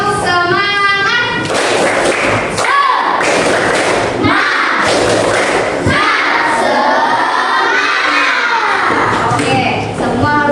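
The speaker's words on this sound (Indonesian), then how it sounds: "Semuanya tepuk semangat dulu" Schoolchildren in a classroom perform a rhythmic clapping chant, bursts of loud hand claps and thumps alternating with shouted, sung kid voices in a patterned call-and-response beat, close and boisterous.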